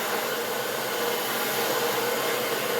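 Steady, close hair dryer whirring without a break as hair is blow-dried over a round brush, a constant airy roar with no voices.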